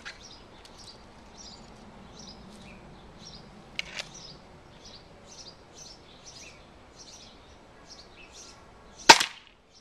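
A Ruger Mark I pistol fires at a target outdoors: one sharp, loud crack near the end and a fainter snap earlier, over steady chirping birdsong throughout.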